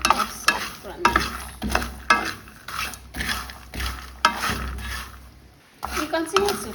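Groundnuts frying in a pan and being stirred, with repeated scraping strokes over a steady sizzle, fairly close, with pauses between stirs and a voice talking over parts of it.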